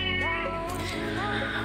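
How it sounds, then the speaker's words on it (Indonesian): A timid male pet cat, around three years old, meows in drawn-out, wavering calls, close and clear over steady low background hum. "Dan ini dia si Brody, kucing peliharaan saya"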